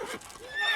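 Roach, the horse in The Witcher 3, gives a short whinny, fairly close and clear, with a thin tonal rise near the end over soft game ambience.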